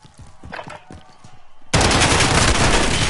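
Video game gunfire: a few scattered shots, then a sudden dense burst of loud, continuous automatic fire that fills the rest of the moment.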